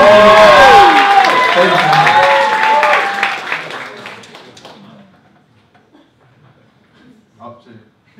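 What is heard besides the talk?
audience applause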